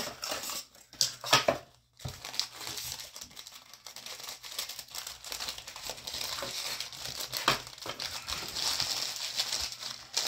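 Plastic packaging crinkles and rustles close up as a Logitech G435 SE is unboxed, irregular handling noises with a brief pause early on, then continuous crackling.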